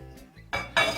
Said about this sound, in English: we're going to place the lids.